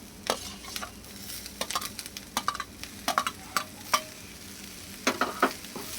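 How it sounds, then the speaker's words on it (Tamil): Tomatoes frying in a pan for egg curry, a soft sizzle broken by repeated sharp scrapes and clacks of a spoon stirring. "நெக்ஸ்ட்டு தக்காளியை போட்டலாம்."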